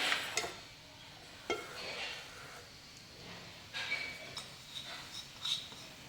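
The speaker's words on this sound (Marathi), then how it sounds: "मीडियम गॅसवर एक दोन ते तीन मिनिट आपण हा नारळाचा खीस छान परतून घेऊया तुपावर कंटिन्यू हलवत राहायचं" Grated fresh coconut stirred in a pan of ghee over medium heat, with soft scattered clinks and scrapes of a spoon against the pan at an irregular pace, close and fairly quiet.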